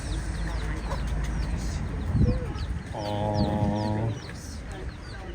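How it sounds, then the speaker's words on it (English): A hen with her little chicks in a Martinique garden, with soft clucks followed by a clear run of rapid, repeated clucking calls nearby, while a voice briefly speaks and birds chirp in the background. "there's a chicken with little chicks"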